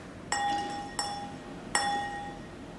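A wine glass is struck three times, each tap giving a bright, sustained ringing tone that lingers and slowly fades, close and clear against a quiet background with no talk.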